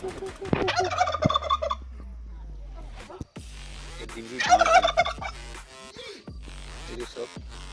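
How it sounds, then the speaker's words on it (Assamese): Turkeys on a village chicken farm let out two loud, close gobbling bursts, one near the start and another midway, with quieter bird calls and rustling in between. "লোকেল মুৰ্গী টাৰ্কি বুলি কয় কি ধুনীয়া টাৰ্কি"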